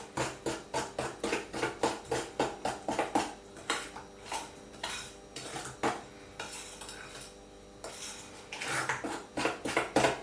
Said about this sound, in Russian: Точно так же хорошо перемешиваем.